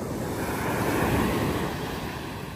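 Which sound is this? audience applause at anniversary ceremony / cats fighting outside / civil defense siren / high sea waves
high sea waves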